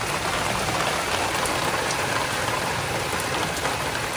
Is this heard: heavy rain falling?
yes